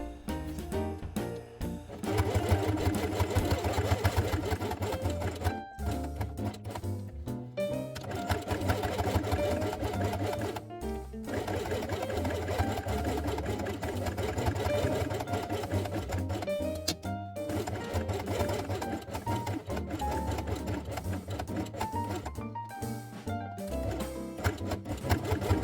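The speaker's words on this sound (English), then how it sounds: "Sew it along the edge with white thread." A sewing machine stitches along a fabric edge with white thread in loud, close bursts of fast, rhythmic chatter, pausing briefly between runs before starting again.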